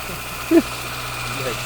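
A used Daewoo Lanos engine idles with a low, steady hum close by, with a brief voice-like sound in the middle and no clear start-up.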